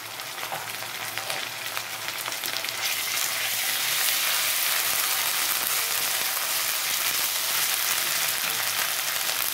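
Chopped onion and ginger-garlic paste sizzle steadily in a hot pan, a dense close-up frying hiss that grows louder after a few seconds and continues without talk.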